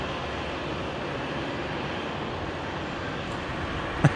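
An airliner takes off from runway 19 right at Brisbane International, a steady, broad jet roar heard at a distance with a brief thump near the end.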